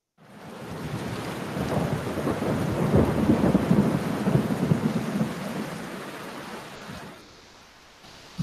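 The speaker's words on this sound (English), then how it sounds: "Do you hear the thunder?" Heavy rainstorm with rolling thunder, a steady loud downpour rumbling low throughout and easing off near the end, with no voices.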